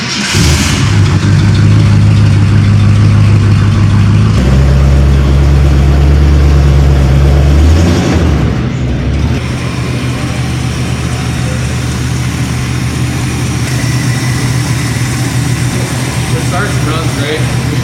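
A 1965 Ford Thunderbird hardtop coupe engine idles steadily and fairly loud for the whole stretch, its low rumble shifting pitch slightly partway through, with no voices over it.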